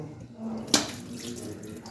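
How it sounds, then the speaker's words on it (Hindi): Chicken gizzards and liver being rinsed one by one under an open running kitchen tap, with a steady close-up splash of water and one sharper splash early on. "तो ये देखिए अच्छी तरह से मैं खुले पानी में एक एक करके इनको धो लूँगी।"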